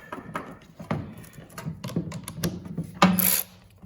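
A ratchet turns 10 mm bolts into a John Deere lawn tractor during a gas tank install, close, irregular clicking strokes repeating through the clip, ending with a slightly louder burst of clicks.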